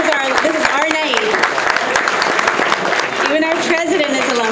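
Applause from a gala audience for alumni at a business school dinner, sustained clapping filling the room under a voice speaking over it.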